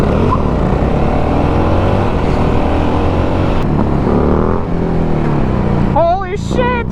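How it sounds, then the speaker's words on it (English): Harley motorcycles doing stunt riding, a loud close engine drone with revving that rises and falls, then a sharp rising whine near the end as people speak. "got a couple of local guys here that stunt some Harleys"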